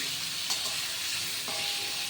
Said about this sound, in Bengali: ঘি দিয়ে এইটা আমি সামান্য ভেজে নিচ্ছি